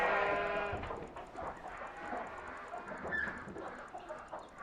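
Chickens clucking in the Euro Truck Simulator 2 video game, a busy, fairly loud mix of bird calls over a steady background hum, continuing throughout without speech.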